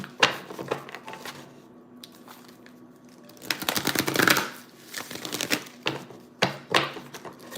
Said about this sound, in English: That's why I've been shuffling that deck